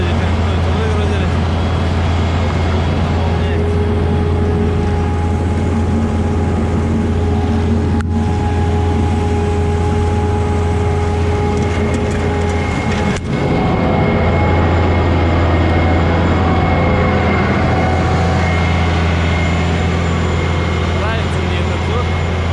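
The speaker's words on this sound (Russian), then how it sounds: "Вот эти двигатели, их ставят на яхты." The roughly 400-horsepower engine of a sugar beet harvester runs continuously during the 2021 harvest. It makes a loud, steady, low drone with a hum of tonal overtones and a couple of brief clanks.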